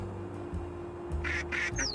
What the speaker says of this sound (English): Are you a goose or a duck?